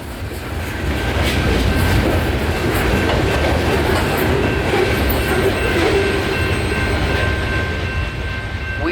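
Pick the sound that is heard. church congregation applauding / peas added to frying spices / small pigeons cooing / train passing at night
train passing at night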